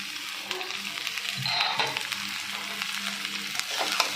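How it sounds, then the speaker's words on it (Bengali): Chopped vegetables and onion being stir-fried for egg chowmein made with leftover flatbread, with a steady sizzle and occasional scraping stirs throughout, close and moderately loud, no voices. "দিয়ে কিন্তু আমি একে ভালো করে নাড়াচাড়া করে নিচ্ছি"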